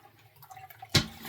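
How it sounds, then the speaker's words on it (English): Water dripping and trickling from a hand-washed crochet item after its final rinse, quiet faint drips building to one louder splash near the end, with no voices. "And I just will let the water drip out."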